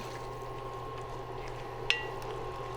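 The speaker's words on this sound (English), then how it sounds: "At this stage, we need to add in 1 cup of water" Water pours steadily into a pan of moong dal for a kale stir fry, a continuous soft splashing with one brief clink partway through.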